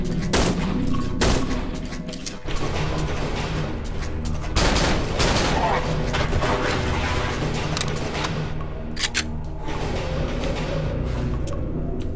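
Gunfire in the horror video game Cry of Fear, loud shots and bursts cracking through a noisy, dense game soundscape, with a quieter stretch near the end.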